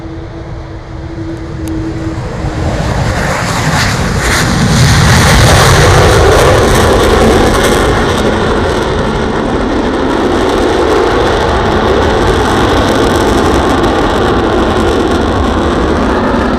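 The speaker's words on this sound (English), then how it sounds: "here comes the spirit of Great Britain, the Avro Vulcan" An Avro Vulcan bomber passes at the 2014 Farnborough Airshow with a loud, swelling jet engine roar that builds to a peak and then holds as a sustained rumble.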